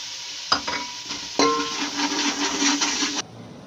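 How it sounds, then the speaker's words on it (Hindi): Garlic and ginger hit a frying pan with onions while cooking a small-fish recipe, a loud steady sizzle with sharp stirring clatters near the start, ending abruptly. "अब इसमें शामिल करते हैं लहसुन अदरक।"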